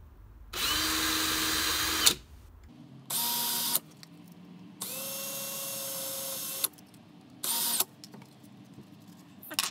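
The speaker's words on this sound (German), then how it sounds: "Löcher sind alle gebohrt" Power drill boring holes in a plastic PS4 controller shell with thin drill bits, running in several whining bursts of one to two seconds separated by pauses, close and loud.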